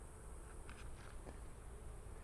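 Honeybees at an opened hive, stirred up after being disturbed, make a steady, close buzzing drone with no talk over it.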